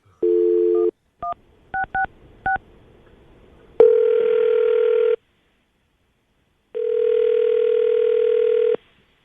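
A telephone dial tone plays, then a few quick touch-tone beeps are dialed, followed by two longer steady tones with a pause between them.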